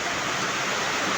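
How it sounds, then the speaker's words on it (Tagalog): Heavy rain pouring down with water running alongside a house during flooding, a dense, even hiss of downpour that fills the whole moment without pause, close and steady. "sa gilid ng aming ano ay tumatalas yung tubig sa lakas ng ulan"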